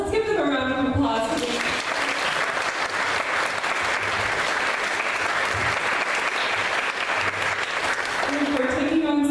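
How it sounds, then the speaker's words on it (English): An audience applauds at a legislative wrap-up event, a full, sustained round of clapping, fairly close and steady, with a speaker's voice briefly before and after it. "Let's give them a round of applause."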